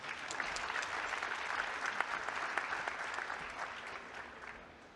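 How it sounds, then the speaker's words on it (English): A room full of people at a conference claps steadily for several seconds, the applause fairly distant and gradually fading. "A round of applause"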